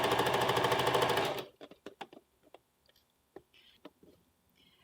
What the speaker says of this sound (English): Now we're going to sew it back to the back of the yoke.